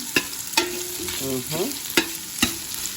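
Ingredients for pinapaitan sautéing in a pan, a low sizzle broken by several sharp utensil knocks and scrapes against the pan at irregular intervals.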